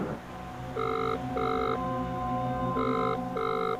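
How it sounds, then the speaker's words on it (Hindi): A telephone rings over speakerphone, two pairs of electronic double-rings with a short gap between pairs, clear and fairly loud over a low room hum. "तो जा, कमल बनकर इस फोन से कल्लू को फोन करो"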